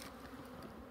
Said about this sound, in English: See, the bees are already gathering up for this box, see?